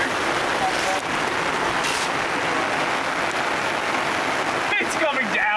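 Steady rain falls at a campsite during an overland trip in Northern Arizona, a continuous, dense hiss of drops hitting surfaces, loud and close throughout.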